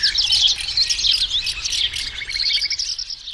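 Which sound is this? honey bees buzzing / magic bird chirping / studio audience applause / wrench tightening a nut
magic bird chirping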